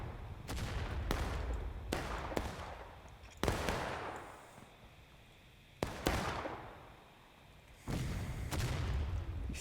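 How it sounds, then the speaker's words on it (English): Sharp cracks of musket fire and heavier artillery booms ring out in a regimental line battle game, arriving in separated bursts with rumbling tails, some near and some distant. "CSA artillery hitting short again."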